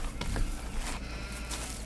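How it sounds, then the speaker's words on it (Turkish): Sheep bleat in the Farming Simulator 15 video game, a few close, loud bleats over a dense background of game noise. "Pardon koyunlarım varmış burada."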